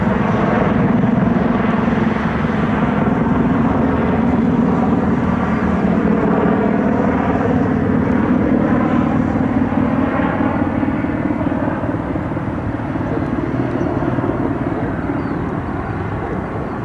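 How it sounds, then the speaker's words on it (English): A Sikorsky medical helicopter for the Cleveland Clinic passes overhead, its steady, loud rotor and turbine drone holding for the whole stretch with a slight easing toward the end. "One of the Sikorskis for the Cleveland Clinic flying over"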